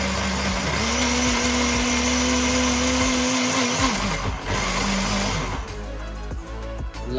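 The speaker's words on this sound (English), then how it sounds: "Paul has suggested adding a little bit of water in, so we're going to do that to help with the blitzing process" A blender blitzes Eton mess ingredients with a little added water, a loud steady motor whir with a sustained hum that dips briefly partway through and runs continuously to the end, no talking over it.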